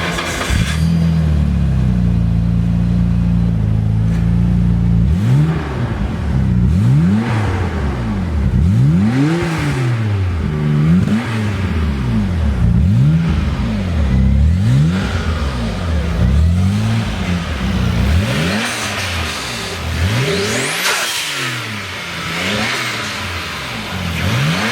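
A 1989 Nissan Skyline GT-R R32 with a 5-speed transmission starts up and idles, then gets a long series of quick, rhythmic revs that climb and drop repeatedly, loud and close.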